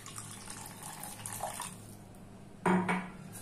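Half a cup of water is poured into a cooking pan holding homemade ghee and chili for a Bengali ilish korma: a brief splash and sizzle with a clink of the pan against faint kitchen background.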